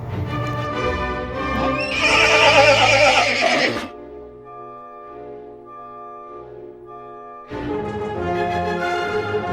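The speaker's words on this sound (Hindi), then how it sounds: "पंख वाला घोड़ा धीरे से वहां से निकल गई।" A winged cartoon horse lets out a loud neigh and whinny, a bright rising cry at the start, then quieter held tones, before a second burst of whinnying near the end.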